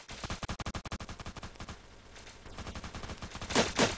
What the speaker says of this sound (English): I waste so much ammo because I'm shooting from so far away